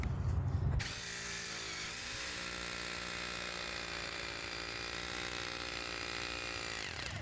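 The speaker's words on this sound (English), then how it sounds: "then you can drill these deeper." A power drill bores into concrete beneath a sunken sidewalk, running steadily at high speed for several seconds after a brief louder burst at the start, a continuous grinding whine close by.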